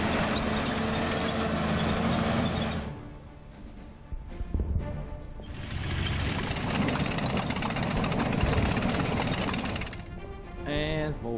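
Tank engines rumble in the Order of Battle strategy game, a loud, steady, low mechanical drone that drops away briefly midway and then returns, with a short distinct noise at the end.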